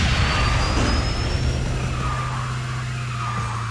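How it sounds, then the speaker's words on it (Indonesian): Tires skidding and squealing in a mobile racing video game, a continuous loud engine drone with screeching sweeps over nearly four seconds, no voices. "Ini game balapan yang aku bikin videonya juga kemarin, seru abis"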